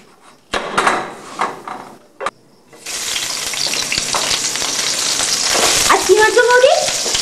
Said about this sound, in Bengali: তুমি বরঞ্চ আগে বেগুন ভাজাটাই করো